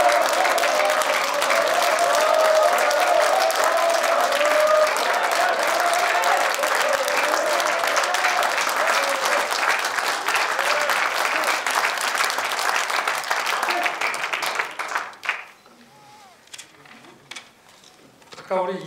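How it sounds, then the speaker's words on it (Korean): Loud, sustained applause from a large audience at a Korean political gathering in Daegu, greeting presidential candidate Yoon Suk-yeol, steady for about fifteen seconds before dying away into scattered claps and quiet. "여러분 큰 박수 부탁드리겠습니다."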